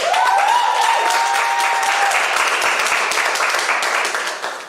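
Loud, dense applause from an audience at a market research awards ceremony for presentation finalists, with a brief whistle or tone near the start, sustained then tapering off at the end.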